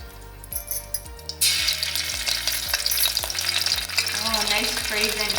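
Ginger garlic paste drops into hot oil in a pan at a street food stall in Pokhara, Nepal, and a loud, dense frying sizzle starts suddenly and holds steady over a low rhythmic hum.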